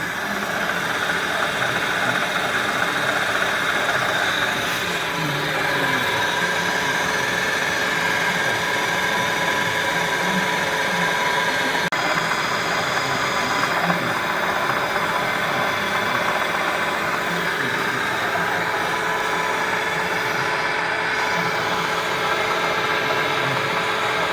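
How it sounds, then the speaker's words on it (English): A lathe takes a light finishing pass on a steel part for a custom rear end on a 2001 Harley-Davidson Dyna, with WD lubricant on the cut; a steady, loud machine hum and whir runs unbroken throughout. "And now we're into the final finishing pass. Nice light cut, little bit of WD on there."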